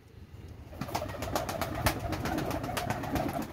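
Pigeons cooing steadily in a loft of high-flying fancy breeds offered for sale, with repeated soft throaty coos and wing shuffles layered close to the microphone and no talk over them.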